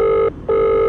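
Electronic telephone ringing: two loud, steady tonal bursts separated by a short gap, close and clear with no talk.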